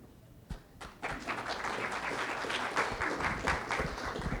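An audience at a community gathering breaks into applause after a fire chief is introduced, starting with a few scattered claps and swelling into steady, full clapping that carries on for several seconds.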